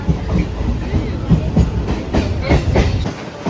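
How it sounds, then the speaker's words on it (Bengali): A train rumbles and clatters as it pulls into Sheoraphuli station, with rhythmic wheel knocks and a steady loud roar across the whole stretch. "শ্যাওড়াফুলি স্টেশন ঢুকছে"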